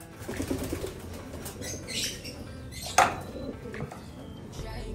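Pigeons flap their wings as they fly down, a soft fluttering rush with a sharp clap near the middle, heard over quiet background sounds.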